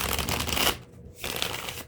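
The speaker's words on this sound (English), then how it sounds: "Let's shuffle 3 times." Tarot cards are riffled and shuffled in two quick bursts, a crisp, close flutter with a short gap between them.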